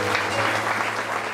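Church congregation applauding during a Sunday service, a steady dense wash of clapping that fills the whole moment at even loudness.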